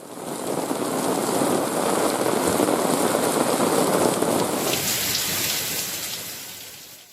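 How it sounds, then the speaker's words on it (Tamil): Heavy early-morning rain in Chennai pours down steadily with strong wind, a dense continuous hiss of drops on surfaces that eases slightly toward the end, with no voices. "சென்னையில் அதிகாலையில் பலத்த காற்றுடன் 1 மணி நேரத்திற்கு மேலாக பரவலாக மழை பெய்தது"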